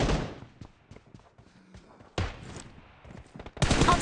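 Gunfire in the mobile battle game PUBG Mobile during a team deathmatch: a loud opening burst, a second sharp volley midway, then another dense burst at the end, with quieter scattered sounds between.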